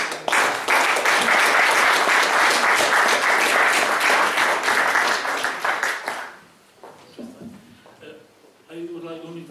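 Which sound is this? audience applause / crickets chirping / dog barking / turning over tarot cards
audience applause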